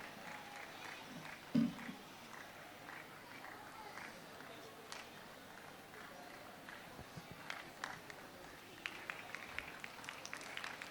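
Students clapping at a school annual day prize-giving: scattered claps that grow denser toward the end, heard faintly and at a distance under an announcer's voice.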